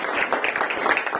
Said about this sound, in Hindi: ये उसके लिए हम ताली बजाएंगे।